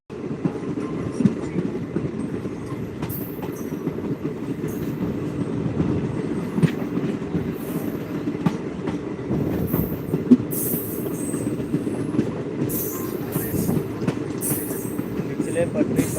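Passenger train rolling on rail tracks between Bajpatti and Muzaffarpur, a steady low rumble with rhythmic wheel clatter and occasional high squeals throughout, heard from inside the moving train.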